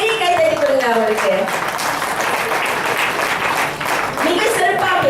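An audience at a JB Solvendhar installation ceremony breaks into loud, sustained applause mixed with crowd voices, with a sung or called tone at the start and end.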